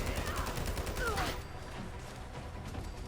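Rapid bursts of gunfire from an ISO Hemlock rifle in Fallout 4, a dense fusillade of loud shots through the first second and a half, then trailing off into lower game ambience.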